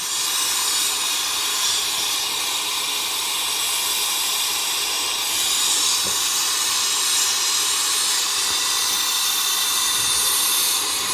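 A Smiths Little Torch with a multi-jet casting nozzle roars steadily while melting gold in a crucible, a loud, unbroken hiss of burning gas held at the same level throughout.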